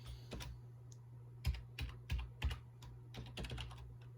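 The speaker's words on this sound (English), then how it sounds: "And then we just need to type the password." Keys on a laptop keyboard are tapped as a password is entered, a close series of sharp clicks in small bursts with brief pauses between them over a quiet background hum.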